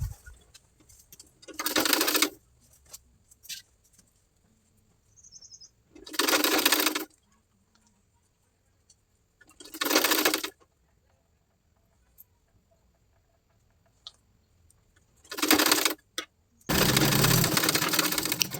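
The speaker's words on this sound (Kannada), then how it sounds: "ಈ ರೀತಿ ನೀಟಾಗಿ ಫೋಲ್ಡ್ ಮಾಡಿಕೊಂಡು ಸ್ಟಿಚ್ ಮಾಡ್ಕೊಳ್ಳೋಣ." A sewing machine stitches pleats on a blouse sleeve in five separate bursts of whirring, each lasting about a second, with the last one running longer, and quiet pauses between them.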